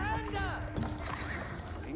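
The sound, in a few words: horse hooves in Age of Empires 4 video game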